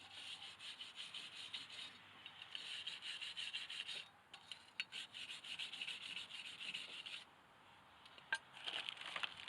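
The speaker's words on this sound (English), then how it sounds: "I'm just going to clean up the hub here a little bit." A car wheel hub being rubbed clean by hand during a rotor and pad change, steady close scrubbing strokes in rhythmic bursts with short pauses between, no talking.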